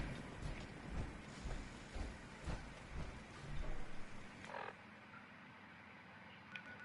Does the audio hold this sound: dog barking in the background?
no